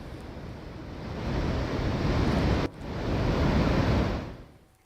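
The Chenab river in flood after heavy rain below the Salal dam with all gates open, a loud continuous roar of rushing water that swells, dips briefly, then surges again before fading.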